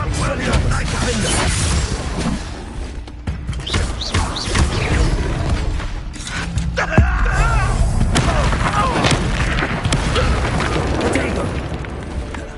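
Spell blasts and explosions fill a Hogwarts Legacy battle: dense, continuous booms and crashing impacts rumble through the whole stretch, loud and layered, with a voice shouting spell names over the din.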